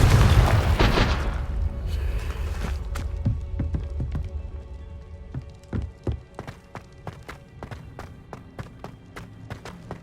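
A Confringo fire spell explodes in Hogwarts Legacy on PS5. A loud, deep boom fills the first two seconds and fades. It is followed by a quick series of light clicks and thuds, like rapid footsteps.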